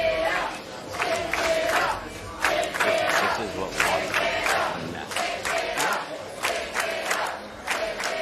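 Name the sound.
crowd cheering at a PBA bowling event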